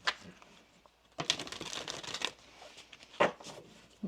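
Tarot cards are shuffled close to the mic in two or three quick riffling bursts with soft papery crinkles between them, moderately loud against a quiet room and with no voices.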